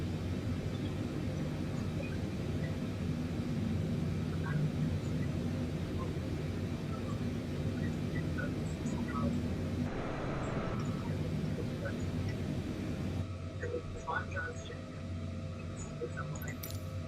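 Airplane engine in Microsoft Flight Simulator, a steady broadband drone with a low hum that stays loud and unchanging throughout, with no talk over it.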